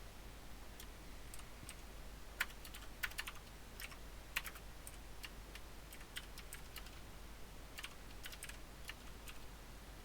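Typing on a computer keyboard while editing code in Emacs: scattered quiet key clicks in short bursts and pauses over a faint steady hum, with no speech.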